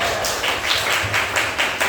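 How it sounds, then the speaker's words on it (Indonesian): A classroom of students claps for their classmates' work, a close, busy patter of many hands with a few sharper individual claps standing out, moderately loud throughout. "Tepuk tangan dulu untuk kalian."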